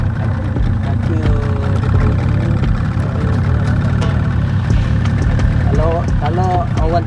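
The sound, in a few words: fishing boat engine running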